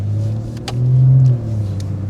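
A BMW with a B58TU engine and pump tuning rumbles steadily and rises in pitch briefly as it accelerates from 0 to 40 mph, heard from inside the vehicle with road noise underneath.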